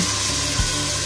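Chopped onion frying in hot oil for a Chilean empanada sofrito, a dense, steady sizzle close by with a brief soft thump partway through.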